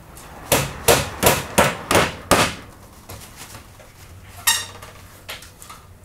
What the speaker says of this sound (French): Et cloue-le.